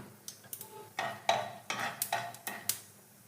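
Mustard seeds and urad dal fry in hot oil, giving a series of sharp, irregular pops and crackles, close and fairly quiet, with a faint sizzle between them.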